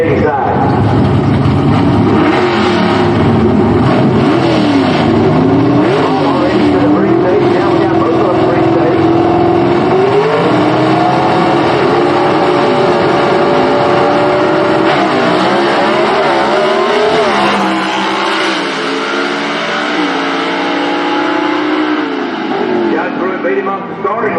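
Gasser-class drag race cars from the Southeast Gassers Association run down the drag strip at Shadyside in the final round of the 2022 season, their loud engines roaring steadily throughout with speech-like voices underneath.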